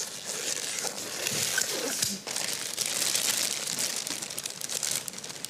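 A paper sack dug up from garden soil is handled close by, giving continuous dry crinkling and rustling with short louder crunches throughout.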